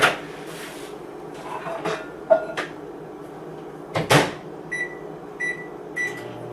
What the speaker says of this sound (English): what I'm going to do is heat it in the microwave for 30 seconds